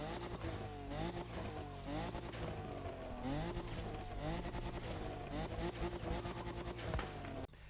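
A Nissan Z engine in the video game The Crew Motorfest roars with repeated upward sweeps as it accelerates and shifts gears, loud and continuous with no voices.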